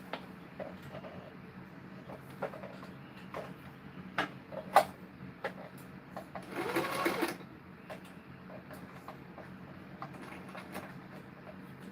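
A sewing machine stitches a bracelet with short bursts of rapid mechanical whirring and clicking, including a louder run near the middle, heard close by amid quiet room noise.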